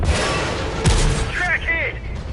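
Tank cannon fire in World of Tanks, with a sharp boom followed by a rolling rumble, then softer whistling, warbling effects as battle sounds continue under a speaking voice.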